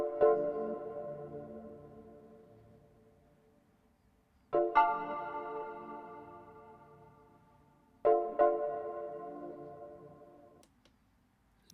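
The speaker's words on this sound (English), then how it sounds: "I picked an FM synthesizer," FM synthesizer chord progression looping with reverb, three struck chords spaced several seconds apart, each ringing bright then fading slowly into a soft reverberant tail, alone and fairly quiet.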